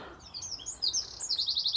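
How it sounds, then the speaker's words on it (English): Small wren singing nearby, a quick run of high, bright trills and twittering notes ending in a rapid repeated rattle, clear over a quiet background. "The wren again."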